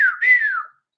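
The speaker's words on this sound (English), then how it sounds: "whistled the 3 notes" A short human whistle used as a three-note signal, a clear tone that briefly breaks and then glides up and down before stopping, loud and close with no other sound.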